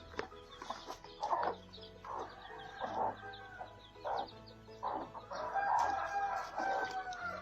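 Chickens cluck and squawk at feeding time, a busy flock of fowl calling repeatedly in short overlapping bursts, fairly close and continuous throughout.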